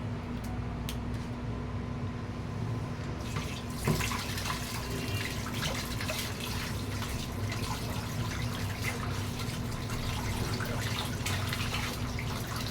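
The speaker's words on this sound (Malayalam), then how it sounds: "വെള്ളം തുറന്ന് വിട്ട് ഡയറക്റ്റ് അങ്ങ് കഴുകുക" Water runs steadily from a tap over fish being washed, splashing and trickling close by without pause, with faint handling sounds mixed in.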